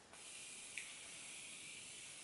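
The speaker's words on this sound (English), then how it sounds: "So I'm just gonna go ahead and spray my face." A fine mist sprays continuously onto a face at close range, a soft steady hiss that starts abruptly and holds evenly, with a small click partway through.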